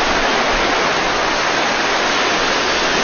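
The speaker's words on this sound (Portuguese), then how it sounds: "Essa é a cachoeira." Waterfall roaring steadily and loudly at close range, a dense, unbroken wash of falling water with no pauses or talk.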